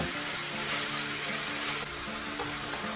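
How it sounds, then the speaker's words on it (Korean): Beef and seaweed with soy sauce stir-fry in a pot over medium heat, giving off a steady, hissing sizzle with a faint low hum underneath and no voices. "이제 미역과 국간장 3큰술 넣고 중불에서 뭉근하게 볶아주는데요"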